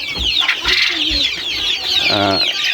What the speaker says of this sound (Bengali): একই খামারে আলহামদুলিল্লাহ আমি দেশি মুরগি আর ফার্মি মুরগি একসাথে রাখছি